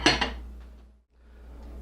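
Covered baking dish of fennel set into a kitchen oven, two quick clinks and clatters of dish on rack, then a quiet hum.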